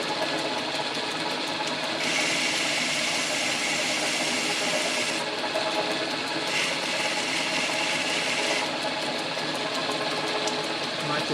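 A metal lathe turns a steel camshaft in a home workshop, giving a steady close machining hum and hiss whose brighter cutting tone switches on and off in long stretches as passes begin and end.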